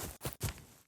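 Three soft, scuffing footsteps on dirt in a Viking Village video game, each a short broadband crunch running into the next, quiet and close.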